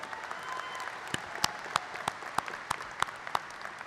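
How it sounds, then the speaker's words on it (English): Applause from a graduation ceremony audience, a dense bed of clapping with several louder individual claps standing out near the microphone, no voices. "How about another round of applause for Mr."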